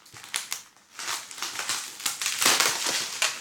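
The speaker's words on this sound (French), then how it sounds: "Donc, il y a un petit truc à déballer." Packaging crinkles and rustles as a product is unwrapped from a Testabox package, close and continuous crumpling with uneven crackles and tearing bursts, no talking.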